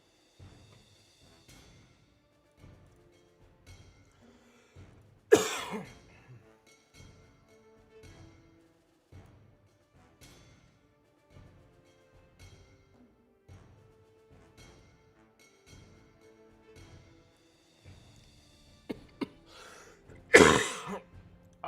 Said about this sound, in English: I know the coughing's awkward.